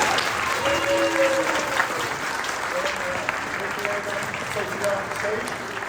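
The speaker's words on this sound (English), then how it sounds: "Round of applause for our helpers today." A live audience at a family magic-versus-science stage show gives a round of applause for the volunteer helpers, steady dense clapping throughout with scattered voices and cheers mixed in.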